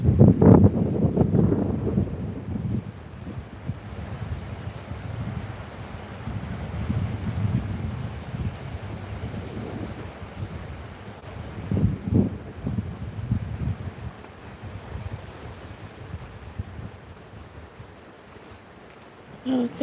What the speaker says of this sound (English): There's a little bit of wind, but it's not too bad. Just a gentle wind.